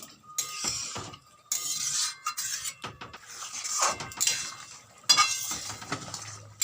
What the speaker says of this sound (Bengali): পরিমাণ মতো উষ্ণ গরম জল দিয়ে ভালো করে মিশিয়ে নেব